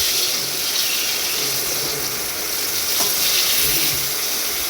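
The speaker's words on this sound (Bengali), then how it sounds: "বেগুন ভাজার পর কড়াইতে যে তেল থাকবে ওই তেলে আমি আলুগুলো ভেজে নেব" Loud, constant sizzling of potatoes frying in leftover oil in a wok after frying eggplant, a dense crackling hiss with a faint clink of utensils partway through.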